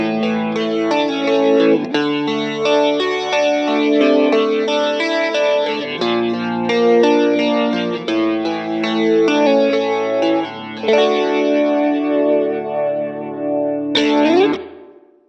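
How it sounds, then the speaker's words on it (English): Electric guitar played through a Tonex, an Electro-Harmonix Holy Grail Plus reverb and a Stereo Memory Man-style chorus, strummed chords and melodic notes ringing loud and wide with lush chorus shimmer and reverb, ending with a final strum that decays. "what you've heard up to now has been, say, a combination of pedals"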